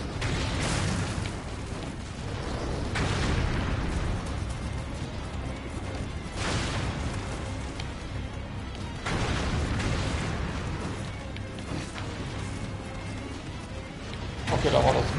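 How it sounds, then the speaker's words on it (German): Cannons fire in the video game Nioh, several heavy booms and bursts spaced a few seconds apart, set against a noisy battlefield and partly under a talking voice. "Passt ein bisschen auf mit diesen Kanonen, die sind gefährlich, Leute."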